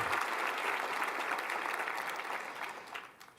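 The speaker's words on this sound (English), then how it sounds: "she deserves a round of applause" Audience applause for Alicia Moore, executive director of Mentor Greater Milwaukee, at a mentoring event: dense, steady clapping from a crowd that holds for several seconds, then begins to thin toward the end.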